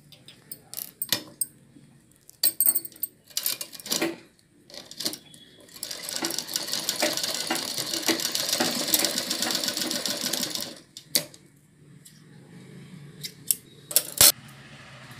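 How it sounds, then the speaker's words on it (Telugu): A sewing machine stitches a blouse neck in a steady rattling run of several seconds, close by, with scattered handling clicks and rustles before and after. "ఇలా చూసారా ఇలా మిషన్ కుట్టు వేసుకోవాలి మిషన్ కుట్టు వేసుకోవడం వల్ల గట్టిగా ఉంటుంది"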